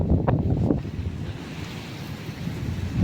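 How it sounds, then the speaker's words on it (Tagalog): Strong wind gusts over a hilltop overlooking Balibago, roaring and buffeting the microphone in a continuous loud rush that swells and eases without pause. "medyo malakas po ang hangin ngayon"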